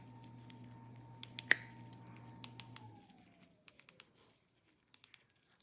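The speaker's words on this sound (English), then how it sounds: "You can hear this is clicking." A dental implant torque wrench is checked for accuracy, giving a scatter of small, crisp clicks in short clusters, quiet and close, against near silence with a low hum that fades out.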